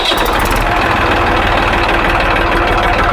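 A Massey 241 tractor diesel engine idles right after a service, a loud, steady, close-up chugging rumble with an even rhythm and no talking.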